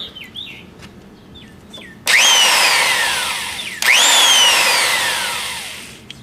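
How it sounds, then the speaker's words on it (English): A die grinder with a cutoff wheel cuts into a board with fiberglass on a stanchion base, spinning up twice in loud, close whines that fall in pitch as the wheel bites, after faint birdsong. "here's the die grinder with a cutoff wheel."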